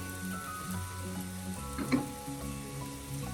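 Steady, fairly loud sizzle of sautéing over a medium flame for a Kerala-style big eye snapper (chempalli) fish curry, with a brief stir or clink near the middle and no voices.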